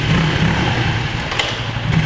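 Honda CBR motorcycle on the move, with a steady loud engine and wind roar filling a couple of seconds as the rider brakes on new calipers.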